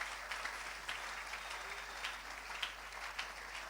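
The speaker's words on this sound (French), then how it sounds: "Tu as raison d'acclamer le Seigneur." A church congregation claps steadily together in acclaim, a dense, continuous patter of applause heard faint and distant with a few louder claps standing out.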